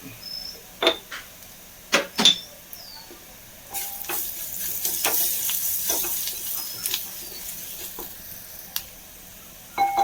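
Ingredients for a mixed stir-fry with fish sizzling in a pan, quiet frying under repeated sharp spatula clicks and scrapes, swelling into a louder sizzle partway through.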